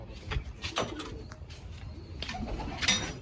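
Pigeons coo nearby at a pigeon keeper's loft, soft repeated coos mixed with rustling and a few sharper bursts of movement.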